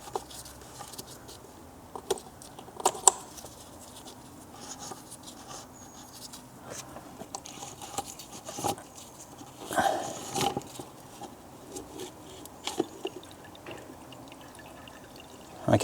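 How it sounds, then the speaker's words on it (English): Oil drips from a Citroën C6 onto the floor in a very quiet space. Faint, irregular taps land every few seconds over a low background hush, and one or two slightly louder splatters stand out. "Let's see if I can listen out for any more oil hitting the deck."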